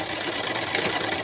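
A sewing machine running steadily while stitching a Punjabi dress, a fast continuous mechanical whir with rapid needle clatter, close and fairly loud, with no talk.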